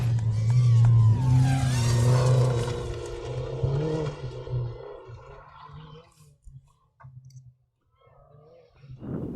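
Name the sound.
Dodge Neon SRT4 rally car driving past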